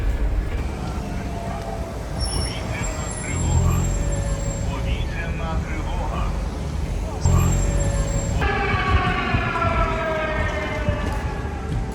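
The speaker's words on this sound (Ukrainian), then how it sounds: "Повітряна тривога. Повітряна тривога. Спустіться в укриття." Air raid alert siren, a sustained tone running through the whole stretch while a voice announcement in Ukrainian speaks over it, with a steady rumbling background and a shift partway through.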